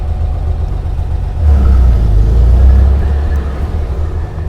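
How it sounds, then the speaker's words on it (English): A 1955 Mercedes 300 SL pulls away in first gear, its engine idling and then swelling into a louder, deeper rumble as the car moves off, holding for a moment before easing slightly. "We will start the engine."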